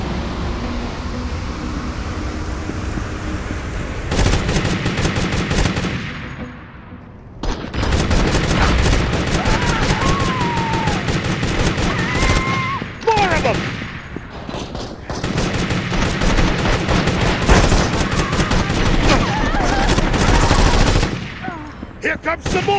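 Sustained gunfire in the video game Gangstar Vegas, loud overlapping automatic bursts with scattered single shots, ricochet-like whines and brief gaps, continuing for over twenty seconds alongside busy game noise.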